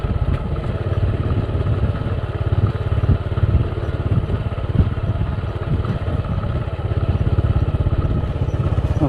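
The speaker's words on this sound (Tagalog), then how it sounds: "ngayon lang tayo magmotor dito" Continuous mid-pitched motorcycle engine chugging along a bumpy dirt farm road through cornfields, steady and close with rattling clatter from the rough ground, no talking.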